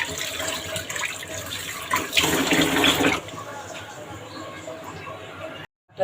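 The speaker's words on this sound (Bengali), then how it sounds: "একটা জালের ভিতরে আমি চালটা ঝরতে দিয়ে দিলাম।" Water drains and splashes from soaked, washed rice set in a mesh strainer for a sweet jorda pulao, with steady running trickle swelling louder midway, then an abrupt cut near the end.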